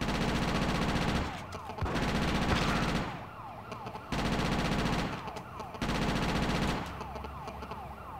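Rapid bursts of gunfire aimed at police in GTA: Chinatown Wars come in loud repeated volleys separated by short gaps, with a siren wailing in the background.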